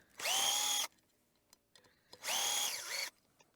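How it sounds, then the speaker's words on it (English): A power tool whirs in two sustained bursts of about a second or more each, spinning out 4mm Allen key bolts from a TC Wanderer electric hub motor on a workbench. Small clicks and handling noises fall between the bursts, close and loud. "these are 4mm Allen key bolts. So we'll remove those"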